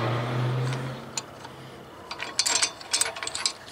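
A ratchet wrench loosens a bolt near a car's brake, a low hum giving way to quick, close clicking bursts in the second half.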